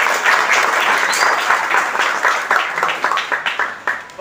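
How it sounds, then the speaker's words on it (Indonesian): An audience at a traditional media dialogue in a joglo hall breaks into loud, sustained applause that thins toward the end into scattered individual claps. "kami mohon semangatnya dengan dukungan tepuk tangan yang meriah untuk 3 narasumber."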